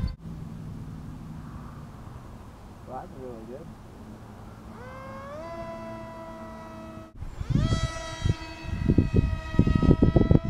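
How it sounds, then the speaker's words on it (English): A small Dollar Tree foam delta-wing RC plane with a hobby motor whines through a rising, pitch-bending tone, then a louder, sharper motor scream takes over amid outdoor noise and wind buffeting. "Here's my new Dollar Tree foam plane."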